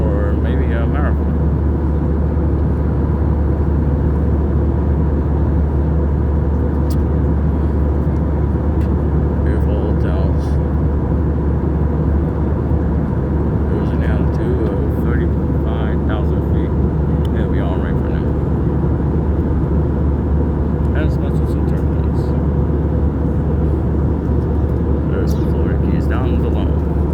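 Steady, loud low-frequency engine drone heard from inside an Avianca Airbus A320-214 airliner climbing out after departure from Miami, a continuous cabin rumble with faint intermittent clicks and murmurs on top.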